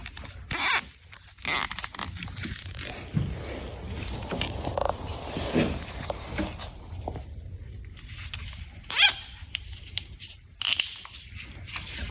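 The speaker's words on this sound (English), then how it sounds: "And zip tie it." Zip tie ratcheting tight during a fuel heater install on a 2002 Chevrolet Silverado Duramax, several quick rasping zips in bursts amid handling noise, close and fairly loud, no talking.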